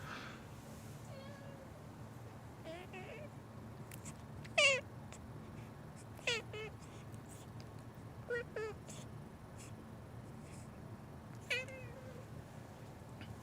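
A cat meows several times in a quiet room near a computer, short rising-falling cries spaced a few seconds apart, faint and somewhat distant over a low fan hum.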